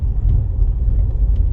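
Ford vehicle creeping along on its own in second gear at about 10 mph on a green lane, a close, steady low rumble from the engine and drivetrain.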